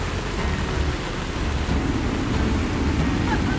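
Heavy monsoon rain pours down steadily during river flooding in China, a dense, constant roar of water with no breaks.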